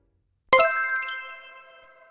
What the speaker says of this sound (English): You scared me with all those notifications.